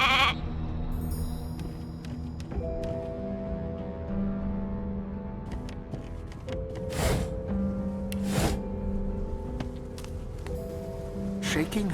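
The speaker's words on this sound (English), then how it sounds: "A sheep!" Sheep bleating in the fantasy role-playing game Divinity Original Sin 2, a couple of short nasal bleats standing out over layered game music and ambience, with a voice speaking briefly.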